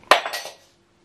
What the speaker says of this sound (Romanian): Am spart paleta!